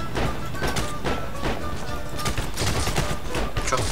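Gunfire from a World War II–era shooter, Heroes and Generals, rattles in dense, overlapping volleys aimed at the player, loud and constant through a few seconds, with a voice speaking alongside.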